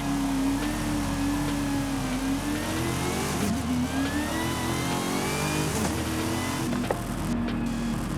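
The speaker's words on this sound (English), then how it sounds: "let's listen to that supercharger." A 2019 Corvette ZR1's supercharged engine in Forza Horizon 5 drones steadily at moderate volume, its pitch rising and dipping through revs with a faint supercharger whine layered on top, and no one speaking.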